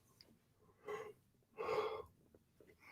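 A person yawns nearby. Two breathy, drawn-out exhalations, the second longer and louder, sound like a gasping, wheezy stretch with quiet room tone between them.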